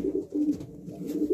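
Racing pigeons cooing together in a loft, soft low throaty coos repeating in close overlapping phrases, near and fairly loud with no talking.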